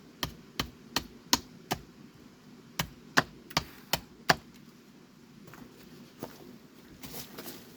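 A Böker Pilot survival knife chops wood in a series of sharp, evenly spaced knocks, about a dozen strikes, loud and close, with the blows thinning out and growing softer toward the end.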